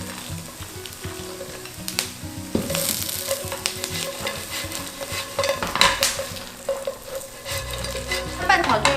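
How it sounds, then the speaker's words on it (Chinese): Rice cakes (nian gao) stir-fried in a wok, with a steady loud sizzle and repeated scraping, clattering strokes of a spatula against the metal throughout. "我们就把年糕也放进来，稍微拌炒一下"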